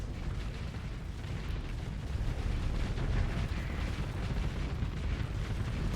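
Space combat in the game Starsector is a steady, dense rumble of weapons fire and explosions, with continuous low booming and crackle blending into one loud wash.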